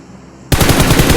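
Rapid bursts of automatic gunfire from a first-person shooter video game erupt abruptly after a half-second of near silence, then pound on loud and close for the rest of the moment.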